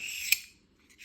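A Reate EXO fidget knife opening: a short metallic scraping swish with a sharp click, then a brief pause before a second quieter rasping slide, close up.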